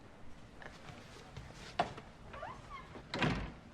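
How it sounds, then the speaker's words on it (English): A door being shut indoors, a soft thud followed by a heavier closing knock, fairly faint against quiet room tone with no voices over it. "Close the door."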